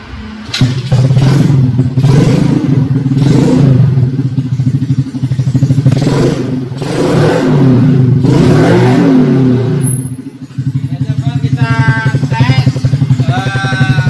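An automatic scooter with a modified CVT idles and revs loudly up close, its clattering engine rising and falling through several throttle blips before dropping briefly and picking up again.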